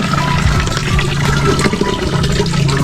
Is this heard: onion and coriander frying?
no